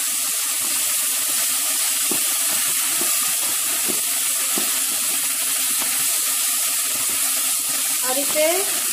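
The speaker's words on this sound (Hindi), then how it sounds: "और इसे कम से कम 20 सेकेंड तक पकाएं भूने।" Ginger garlic paste with a little water frying in a pan for egg masala curry, a steady loud hiss and sizzle with faint stirring clinks throughout.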